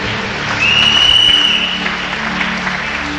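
A church congregation applauds loudly to acclaim God, with sustained dense clapping that swells near the start and continues steadily throughout, heard close and full.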